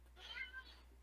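A house cat gives one short, fairly faint meow, rising and then falling over about half a second, against a quiet background with a low steady hum.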